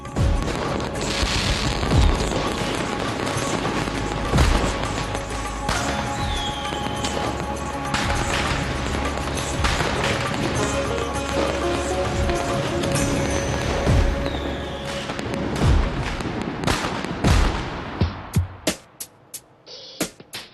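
Diwali fireworks explode repeatedly in a loud, dense barrage of booms and crackles with crowd noise, continuing for many seconds before dropping off abruptly near the end.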